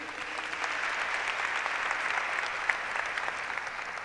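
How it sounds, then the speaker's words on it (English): Church audience applauding a congregant who has stood up at a religious gathering, a steady wash of many hands clapping from start to finish with no talk over it. "Everyone clap it up for her real quick."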